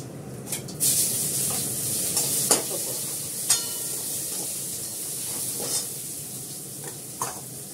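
Onions frying in a pan with a cumin tempering, a steady close hiss broken by scattered scrapes and clacks as a spoon stirs them now and then, with no talk.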